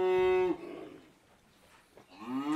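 A cow lets out a long, loud moo with a strong harmonic tone, then after a quiet pause starts another rising moo.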